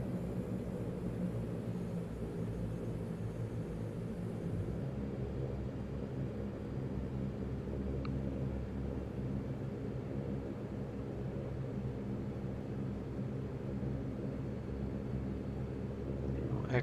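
A Saab 340 turboprop on landing rollout in a flight simulator, thrust reversers engaged, a steady loud engine roar and rumble that drops slightly after a few seconds and continues evenly.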